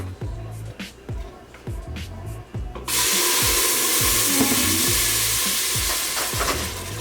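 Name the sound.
mole sauce poured into a hot pan, sizzling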